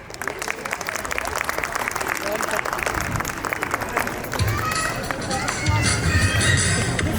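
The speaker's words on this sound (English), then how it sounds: "Welcome our LKG boys with a loud cheer, everyone." A crowd at a preschool annual day celebration cheers and applauds loudly for the preschool boys as they come on, a dense continuous roar of clapping and shouting with voices mixed in, then music rising underneath.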